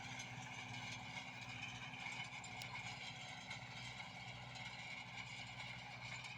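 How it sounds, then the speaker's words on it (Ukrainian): A tractor in eighth gear, low range, pulls a field roller, its engine a steady low droning hum with mechanical rattle, constant and fairly distant throughout. "Трактор їздить на восьмій передачі,"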